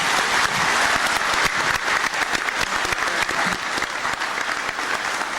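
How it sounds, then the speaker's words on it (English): Audience applause from a labor group after a 1981 speech by President Reagan: dense, steady clapping fills the whole stretch at close, even loudness with no voices over it. "President Reagan, in a speech that lasted about 19 minutes, drew applause 4 times from this group"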